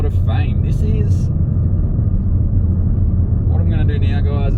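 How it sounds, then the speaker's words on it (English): Deep, steady V8 engine rumble from a 2024 Audi RS6 Avant Performance runs throughout, with a person talking briefly over it at the start and again near the end. "just with the nice V8 in the background"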